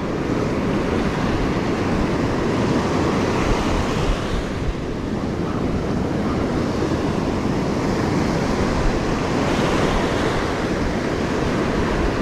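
Loud, continuous surf of breaking ocean waves rolls and crashes nearby on the Alabama Gulf coast, with wind buffeting the microphone throughout and no voices.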